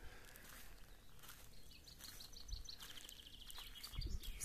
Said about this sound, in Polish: Słyszycie ptaszki, jak pięknie?